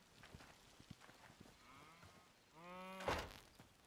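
A cow in a farming video game lets out one clear, drawn-out moo near the end, preceded by quiet scattered thuds and soft clicks of in-game activity.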